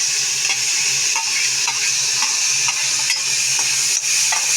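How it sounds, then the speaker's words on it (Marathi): Finely chopped tomato and vegetables sautéing in oil in a pan, a steady loud sizzle with faint periodic scraping from stirring, no talking. "आपण व्यवस्थित आता तेलावरती त्यांना परतवून घेणार आहोत"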